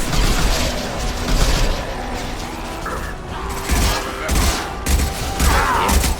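Gunfire and booming blasts from unstable-material crates exploding in the Mass Effect video game, a dense run of loud bursts and mechanical clatter with several heavier thumps spread across the stretch.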